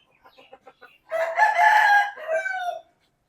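A rooster, one of a pair of fighting cocks offered for sale, crows loudly and close after a few short soft clucks, the call rising and then trailing off.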